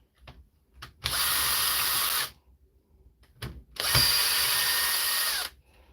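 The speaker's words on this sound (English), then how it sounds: "I better take out all the screws." A power screwdriver backs out screws in a workshop repair, giving two sustained high whirring runs of about a second each, separated by short clicks and handling noises, close and loud with no talk.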